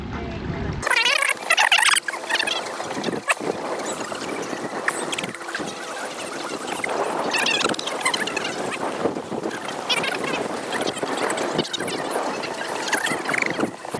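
Small fishing boat with its outboard motor held straight, spinning fast in tight circles; a steady whirring engine and water rush runs throughout at close range, with brief wind buffets.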